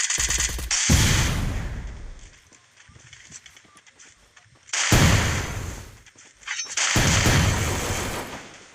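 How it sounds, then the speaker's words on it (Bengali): Grenade blasts and gunfire in a video game erupt in three loud, booming bursts, each followed by a decaying rumble, with quieter gaps and scattered shots between them. "আমার গ্রেনেড মারতেছে।"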